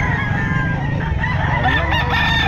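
Bullstag gamecocks crow and cluck among other fowl at a busy Bocaue pet market, a loud, dense, continuous chorus close by.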